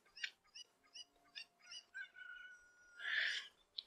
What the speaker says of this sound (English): Come on, you silly little chicken thing.